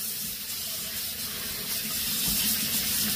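Cold water runs steadily onto sour ambada greens in a strainer, a continuous close hiss and splash with no pauses.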